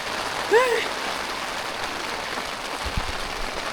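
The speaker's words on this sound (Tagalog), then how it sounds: "Lumakas na po yung ulan mga paps." Steady, dense hiss of heavy rain pouring down at a motorcycle campsite, with a brief vocal sound near the start.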